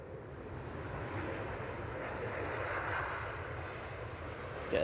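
An airliner comes in for a floating touchdown at Manchester Airport, its engines giving a steady, moderately loud broadband roar that swells slightly and then eases.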